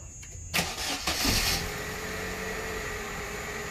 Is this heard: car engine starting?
yes